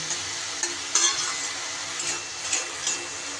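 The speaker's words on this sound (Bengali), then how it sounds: "আর ওই জলেই কিন্তু শাপলাটা আমার সিদ্ধ হয়ে যাবে।" Water lily stems cook in a pan with a soft, steady sizzle close by, broken by a few scraping stirs and light clinks of a utensil, with no talking.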